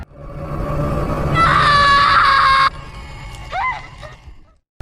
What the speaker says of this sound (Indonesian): lalu ia pun berteriak.